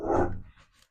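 A single loud, close indoor dog bark with a deep, gruff onset that fades quickly, followed by a faint trailing sound.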